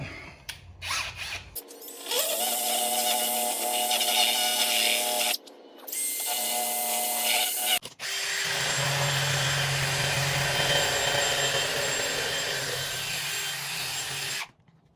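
A power removal tool strips trim emblems from a 2016-2018 Mercedes GLE 350, giving three long bursts of loud, steady whirring and grinding with brief pauses between them and no talk.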